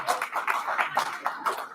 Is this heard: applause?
yes